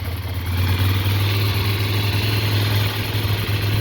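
2009 Ducati Monster 696 with a Two Brothers exhaust idling close by, a loud, steady low rumble with an even, unchanging pulse throughout.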